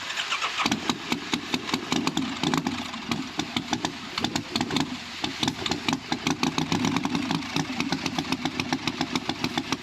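A 1985 Harley FXR motorcycle engine cranks repeatedly, a fast rhythmic chugging of starter pulses that never quite catches, close and loud over the whole stretch.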